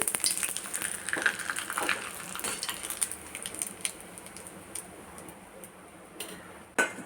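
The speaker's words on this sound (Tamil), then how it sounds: "இப்போ நம்ம இதை பொரித்து பார்ப்போம். பாருங்கள், எண்ணெய் காய்ச்சிட்டு பாருங்கள், இவ்வளோ பெருசாக வருது" Sago papad crackles and sizzles in hot oil, with scattered sharp pops and ticks over a soft frying hiss, busier at first and then thinning out, with one louder crack near the end.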